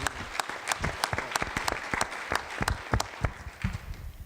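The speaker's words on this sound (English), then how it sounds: "Can we applaud those?" An audience at a school chemical health presentation claps for a few seconds, sharp individual handclaps standing out over a thinner spread of clapping, moderately loud and uneven in rhythm.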